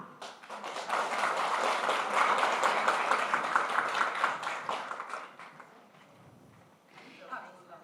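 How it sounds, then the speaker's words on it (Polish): An audience claps for a second-place winner called to the stage at a results announcement for an open stage event in Pińczów, a sustained round of applause that swells, then fades after about five seconds, with a voice coming in afterward. "Jest z nami Pola, wielkie brawa"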